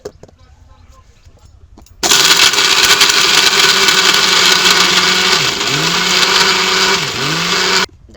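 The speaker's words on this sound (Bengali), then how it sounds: "এত বড় বড় দিলে মিক্সিতে কিন্তু হবে না অল্প অল্প করে গুঁড়ো করে নেবো" After a quiet start, an electric mixer grinder suddenly whirs to life, grinding sugar candy (misri) into powder. Its loud, steady motor drone runs for several seconds with slight pitch dips, then cuts off abruptly.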